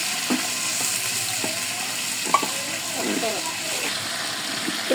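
Spice paste with sour yogurt being sautéed in a pan in a village kitchen, a continuous close sizzle with soft irregular stirring scrapes and a brief clink.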